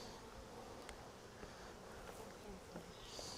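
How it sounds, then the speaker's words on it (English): A honeybee trapped inside a beekeeper's sleeve buzzes close and faintly during a hive inspection, a thin continuous drone over quiet outdoor background with soft voices nearby. "got a bee in my sleeve"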